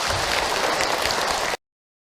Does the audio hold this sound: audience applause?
yes